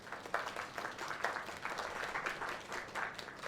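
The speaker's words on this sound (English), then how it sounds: "Round of applause." Soft, distant applause from a small in-game audience rustles along for a few seconds, faint and continuous with no voices over it.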